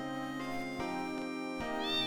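A cat meows in Final Fantasy VIII, a clear, tonal, slightly rising cry heard alone over a soft, sustained musical backdrop, with a short break and a second call near the end.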